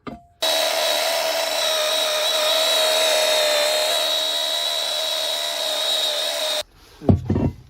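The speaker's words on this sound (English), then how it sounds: "just drilled the hole through the floor with the big core bit" A large core drill bit grinds steadily through a floor while fitting a Chinese diesel heater, a loud continuous whine for about six seconds before the drill stops, then a brief clatter.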